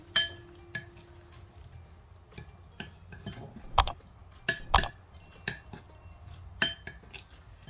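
A spoon clinks and taps against a bowl while mixing a pizza-sauce mixture, giving sharp irregular metallic clinks spaced through near-quiet.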